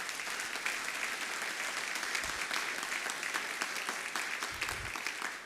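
A conference audience claps steadily and loudly for the whole stretch after a speaker's talk, a dense, even wash of many hands with no pauses.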